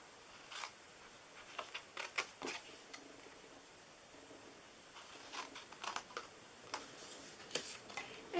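Scissors snip the corners off paper for a small chocolate gift box, a scattering of faint, close, crisp clicks and short cuts in two bursts separated by a quiet pause.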